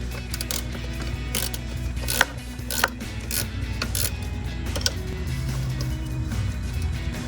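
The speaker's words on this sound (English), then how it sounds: "I'm using a wrench ratchet" A ratchet wrench turning a nut on a RAM 1500 radiator, with rapid clicking strokes in short bursts over a steady low background hum, close and moderately loud.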